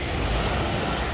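Strong ocean surf roars continuously with a dense, wind-blown wash, loud and close, with no voices.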